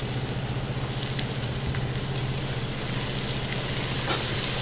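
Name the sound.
vegetables frying in a pan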